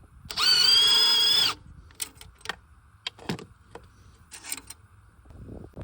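An impact wrench with an 11 mm socket buzzes in one loud, steady burst of about a second while loosening a bolt during an exhaust install on a truck, followed by scattered clinks and handling noises of tools and parts.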